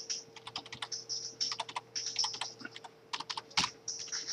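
Fingers clatter on a computer keyboard in close, irregular bursts of quick keystrokes separated by short pauses, with one louder cluster near the end.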